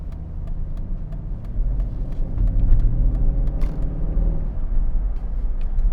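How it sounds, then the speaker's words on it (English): A 2009 Mercedes-Benz SL63 AMG accelerates gently in comfort mode, its engine note rising into a steady, loud, continuous rumble heard from inside the car with no talk. "You see, I gave it some gas there in comfort mode"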